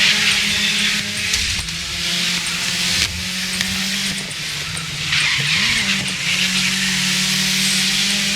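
An Audi race car in the GRID racing game, its engine droning loud and steady with tire scrubbing and sliding throughout, the pitch dipping and rising as the car struggles for grip.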